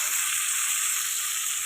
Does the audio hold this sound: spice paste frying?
yes